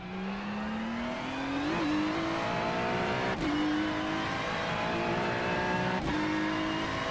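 A race car at full throttle ploughs through a gravel trap in iRacing, its steady engine drone climbing slowly in pitch with a few brief sharp bumps, loud and close throughout.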